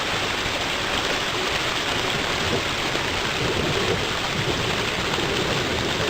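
Water pours steadily into a curb drain during a drainage filter test, a loud, dense, unbroken rushing splash that fills the whole short stretch without pause.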